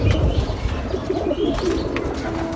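Pigeons coo softly at a pigeon farm, giving several low, rolling calls in a row over a murmur of background noise, with a few brief chirps.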